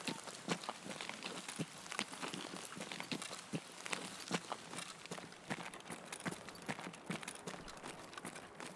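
Footsteps on the Shoreline map, a steady series of soft crunching steps moving at a brisk walking or running pace, faint and continuous under a noisy ambient background.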